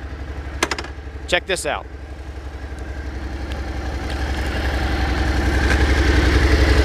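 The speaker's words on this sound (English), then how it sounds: "So we got this thing going, right?" A Suzuki SV650 motorcycle engine idles steadily with a low, even thrum that grows slightly louder toward the end. Someone speaks briefly over it near the start.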